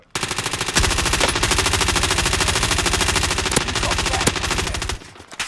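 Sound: machine gun fire in a shooter video game

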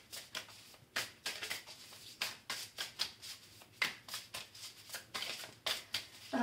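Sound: shuffling a deck of oracle cards

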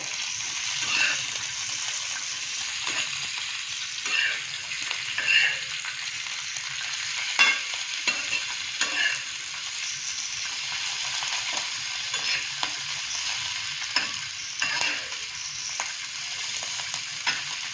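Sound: green chillies and garlic frying in a pan

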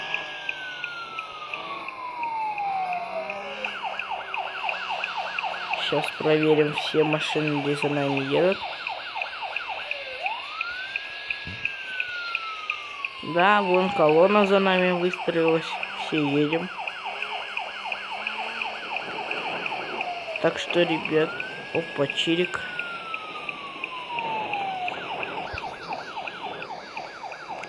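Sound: motorcade escort car sirens and emergency lights

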